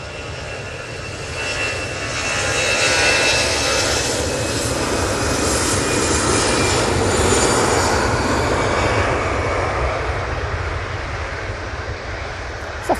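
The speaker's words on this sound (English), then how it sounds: "Off to Amsterdam using their A320, mighty orange." An Airbus A320 airliner at Manchester Airport, bound for Amsterdam, gives a steady, loud jet engine roar that swells over the middle of the pass and then eases slightly, with no voices over it.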